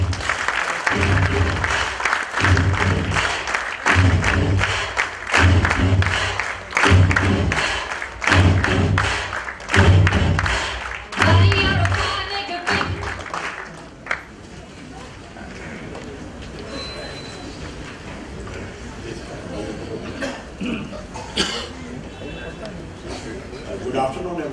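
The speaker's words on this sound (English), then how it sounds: "please give a huge round of applause in welcoming our guest speaker" A seated audience claps steadily for about thirteen seconds to welcome a guest speaker at an indoor talk, loud and close, then the clapping fades out into room noise and murmur.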